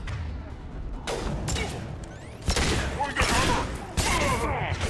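A high-impact shot fired in the Space Koboy video game, with heavy blasts and crashing bursts repeating over the stretch, loud and close, among other sci-fi weapon noise.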